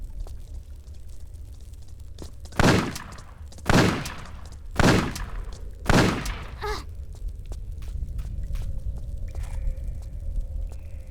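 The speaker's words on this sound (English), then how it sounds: "Shotgun." Shotgun in Tomb Raider, four loud, heavy blasts spaced roughly a second apart over a low ambient hum, each with a short booming tail, followed by quieter mechanical clicks.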